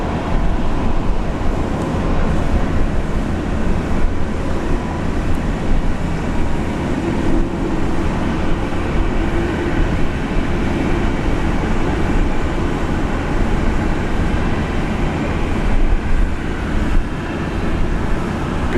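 Steady, loud broadband roar of a Jetstar jet aircraft at Brisbane International Airport, sustained and even throughout with no distinct peaks, heard alone without talking.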